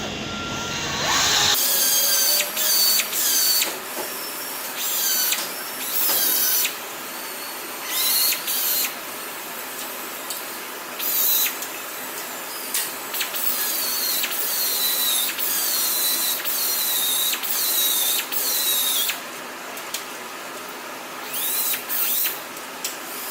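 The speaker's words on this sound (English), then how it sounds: "belt grinders work pretty sweet for taking out spot welding." A belt grinder cuts out spot welds on the door skin of a 2015 Chrysler 300, a loud continuous high-pitched grinding whine. It rises and dips repeatedly in short bursts as the belt bites into each weld, with no talking.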